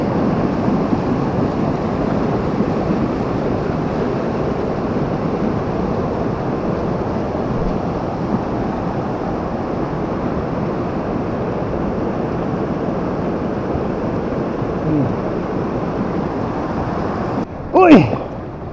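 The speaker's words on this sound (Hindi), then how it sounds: "देखिए पानी का बहाव इतना खतरनाक है" A heavy, fast-running river rushes in a dense, loud, continuous roar, steady throughout with wind buffeting, and a brief sharp knock near the end.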